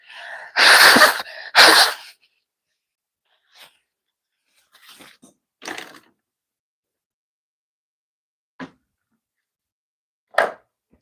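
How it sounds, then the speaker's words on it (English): A loud, close sneeze bursts out twice in quick succession, then a quiet stretch with faint breaths and small scattered noises. "I feel like I had that sneeze"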